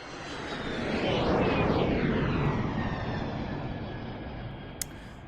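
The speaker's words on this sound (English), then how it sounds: "Let's fire up the sponsor jet." A jet aircraft sound effect swells into a loud, broad roar with a sweeping whine, peaks, then slowly recedes, with a brief sharp click near the end.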